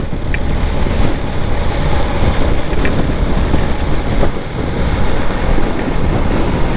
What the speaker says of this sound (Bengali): এত বাতাস ভাই, সিরিয়াস।